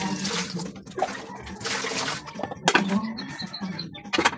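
Water runs and splashes in a home kitchen while tinola is cooking, with irregular pours and trickles, a few light clinks, and close-up sounds.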